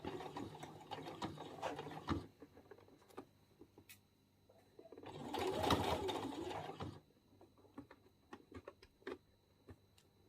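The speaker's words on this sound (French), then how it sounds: "Et là je vais commencer à piquer" A sewing machine stitches ruffled flounces onto an Isadora dress, a steady whirring run of a few seconds in the middle, framed by short bursts and scattered clicks of fabric handling close by.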